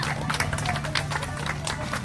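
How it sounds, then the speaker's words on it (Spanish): A Spanish-speaking audience at a ceremony, held at a ribbon cutting for a bakery, claps for a guest: brisk, rapid clapping from a crowd over a low background hum, lasting about two seconds. "Fuerte las palmas."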